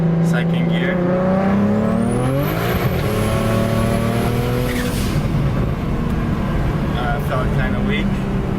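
A BMW 335i with the N54 single-turbo engine accelerates hard in second gear, its engine note rising steadily and then dropping at the shift, loud and close from inside the car, with a turbo whine over it.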